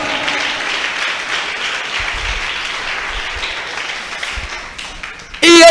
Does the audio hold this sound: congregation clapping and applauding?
yes